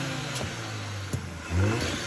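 A car engine fitted with a blow-off valve runs and revs at a moderate distance. It makes a low, steady mechanical drone with a few short bursts and swells in the revs.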